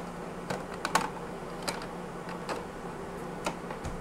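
An ink cartridge sliding into a Sawgrass SG1000 sublimation printer gives a few soft, close clicks and small plastic taps scattered across a quiet background.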